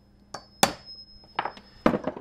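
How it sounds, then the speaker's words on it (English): A center punch taps a soft aluminum part held in a vise, giving a few sharp metallic clinks at close range with a faint ringing tone in between. "Again, I'll use my center punch, punch a little hole, center the drill bit with."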